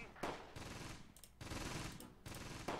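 Machine-gun and rifle fire in the World War II tactics game Close Combat: Gateway to Caen, during a battle at Mouen, coming in three sustained rattling bursts separated by short pauses, steady and moderately distant.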